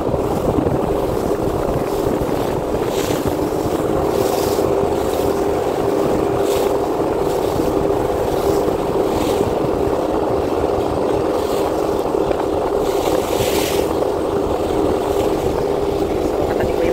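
A ferry crossing from Surigao to Siargao pushes through waves, a loud steady engine drone with rushing water and wind buffeting the microphone throughout.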